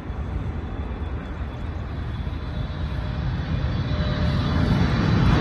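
A fixed-wing airplane coming down to land, its engine roar steady and broadband, slowly growing louder as it nears, with no voices.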